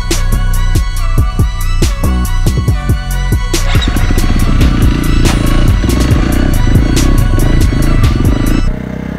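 A motorcycle engine at the WP Suspension factory rumbles and revs loudly up close, the pitch climbing as it pulls away, steady and continuous before cutting off near the end.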